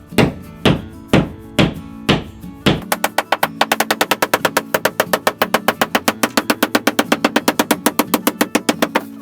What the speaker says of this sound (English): Got kind of a big hammer here for this